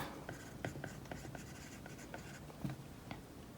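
Stylus writing in a digital planner app with the text tool: light, quick tapping and scratching strokes in irregular bursts, faint and close.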